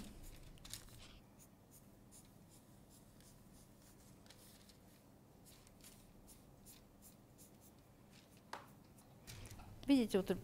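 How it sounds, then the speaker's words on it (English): A pen or marker draws a slightly rounded line on cashmere fabric for a jacket, giving faint, steady scratchy strokes up close, with a few louder handling rustles of cloth near the end. "I'm drawing a beautiful, slightly round line."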